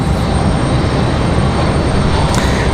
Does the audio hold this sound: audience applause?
no